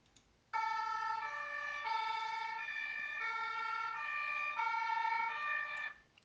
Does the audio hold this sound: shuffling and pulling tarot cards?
no